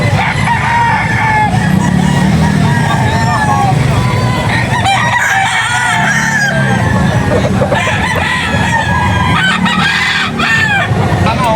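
A white Hatch gamefowl rooster crows repeatedly at a Bocaue, Bulacan gamefowl arrival, loud and close, with other roosters crowing and clucking around it and someone talking over the birds.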